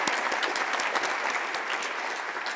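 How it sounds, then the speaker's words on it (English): Audience applause at a live Achieving Dreams event, a steady patter of many hands clapping close and loud for the whole stretch, with faint crowd murmur underneath. "her BFF in the front row is clapping."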